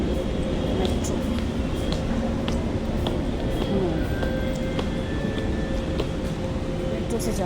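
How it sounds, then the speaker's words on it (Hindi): A metro train rolls along, a constant low rumble with rattling and clicks, a faint tone rising in the middle, steady and loud throughout. "मेट्रो से जा रहे हैं"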